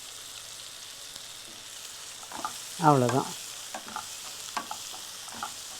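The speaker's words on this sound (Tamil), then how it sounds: "இந்த வெங்காயம் வேகிற மாதிரி கொஞ்சம் வதங்கட்டும்." Onions with thin-sliced ginger and turmeric powder sautéing in a pan for a Tamil potato and sesame fry, a steady soft sizzle with a brief louder stirring burst midway and light clinks, one short spoken word.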